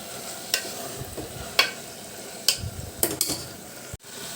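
A spoon stirs field beans with masala in a sizzling pan, with several distinct scrapes and taps against the metal over a steady frying hiss and no talking.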